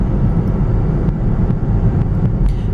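Steady low cabin rumble and tire road noise from a 2006 Mercedes-Benz ML350 AWD SUV cruising, continuous and even with faint higher hiss and a few light ticks, no voices.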